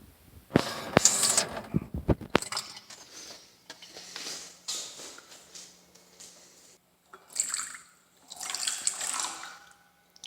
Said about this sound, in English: we can still get the pouring of the measuring cup into the bowl